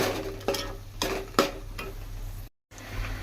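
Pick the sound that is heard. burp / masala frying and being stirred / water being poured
masala frying and being stirred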